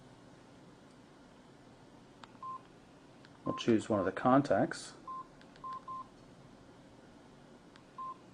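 A mobile phone keypad with T9 predictive text beeps as a text message is typed: short, evenly pitched tones, first sparse, then a dense burst under a speaking voice, then a few more scattered presses.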